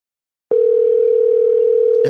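A telephone tone starts abruptly after half a second of silence and holds loud and unbroken, without pauses, while a call is placed to a woman.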